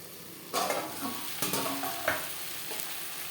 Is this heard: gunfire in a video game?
no